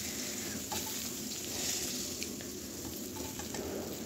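Fish frying in oil produces a continuous low sizzle with faint scattered crackles and pops. It is even and fairly quiet throughout, with no talking.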